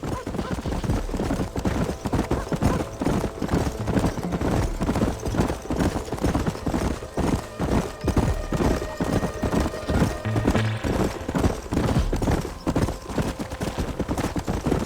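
Horse hooves beat in a steady fast clip-clop rhythm throughout while riding in the Red Dead Redemption video game, with a brief whinny, loud and continuous with music or ambience underneath.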